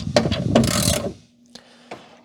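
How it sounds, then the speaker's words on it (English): A ratchet wrench clicks in quick bursts while loosening bolts on a car door panel, sharp close ratcheting followed by a pause and a couple of isolated clicks. "I'll just get a wrench and start taking things out"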